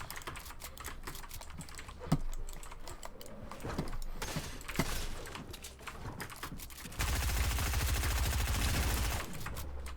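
Rapid bursts of gunfire in the Fortnite video game, a dense rattling fusillade that builds near the end, mixed with clicky keyboard-like taps.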